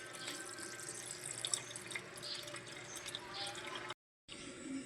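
Tap water runs steadily into a kitchen sink while something is washed under it, a continuous close splashing rush that cuts out briefly near the end and then resumes.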